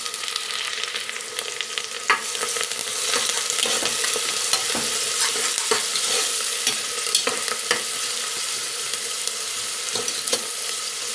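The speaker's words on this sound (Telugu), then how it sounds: "ఈ ఉల్లిపాయలను ఫ్రై చేసుకుందాం" Chopped onions, green chillies and curry leaves fry in hot oil, giving a loud, continuous crackling sizzle with frequent stirring scrapes and clicks throughout, and no talking.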